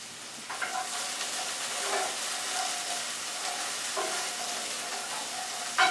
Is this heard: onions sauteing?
yes